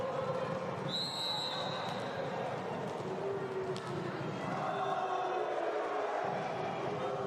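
Arena crowd at a CEV volleyball match between CS Volei Alba Blaj and Savino Del Bene Scandicci, jeering the opposing Scandicci server with a steady, dense roar of voices and scattered whistles.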